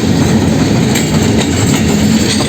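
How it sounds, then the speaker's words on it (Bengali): A freight train of oil tankers rumbles close by in Jessore with steady rolling noise and faint rhythmic clacks, loud and continuous. "এখন যে ট্রেনটা আসছে সেটা একটা মালবাহী ট্রেন মানে তেলের ট্রেন"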